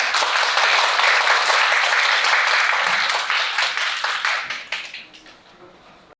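An audience at an architecture lecture in Seoul applauds loudly and steadily, then the clapping thins out and fades to a few scattered claps at the end.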